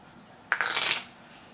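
A deck of playing cards gets a single quick riffle shuffle, a short close crackling burst of about half a second that ends crisply, with no voices.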